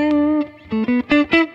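Distorted electric guitar with a gritty, scratchy pick texture: one long held note, then four short, punchy notes in quick succession.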